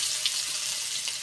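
Chopped onion hitting hot oil in a pan, a soft, steady hiss of sizzling with a couple of faint crackles, brief and fairly quiet.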